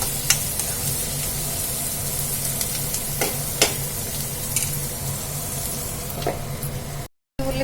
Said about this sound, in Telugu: బఠానీ కొంచెం సేపు అయితే వేయించుకుందాము బఠానీ అయితే ఆయిల్లో ఒక్కొక్కసారి అయితే పేలుతుంది